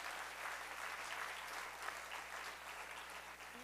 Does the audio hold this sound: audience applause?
yes